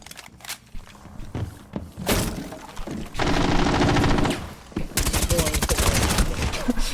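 Automatic gunfire from the video game Rainbow Six Siege X, loud hip-fired bursts in sustained rattling volleys with a few scattered single shots and thuds before them, up close in the mix.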